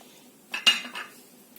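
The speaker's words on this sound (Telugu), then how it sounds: "ఐస్ క్యూబ్స్ కూడా మనం వేసేసుకుందామండి ఇందులో." Ice cubes tumble into a mixer jar holding coffee powder for cold coffee, giving a quick cluster of hard clinks and clatters in about half a second, close and fairly clear, with no talking.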